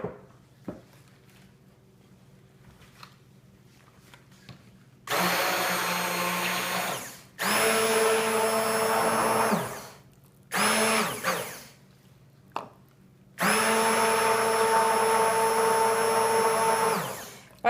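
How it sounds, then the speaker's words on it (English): A stick blender whirs through cold process sea salt soap batter in four loud, steady bursts of several seconds each, separated by short pauses with quiet handling noise. "I'm going to hit this with the stick blender in order to get"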